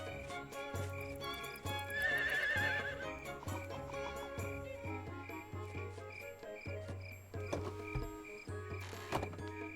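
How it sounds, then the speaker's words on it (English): Horse neighing in the Harvest Moon farming video game, a bright whinny rising over a steady game music loop with rhythmic low notes, followed by later tonal game sound effects. "and here's our horse."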